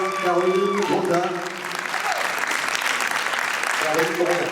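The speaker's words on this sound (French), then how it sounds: "On peut applaudir Caroline Gondin." Crowd applause for a winner at a pageant prize ceremony, a continuous wash of clapping under a host's voice heard at the start and again near the end.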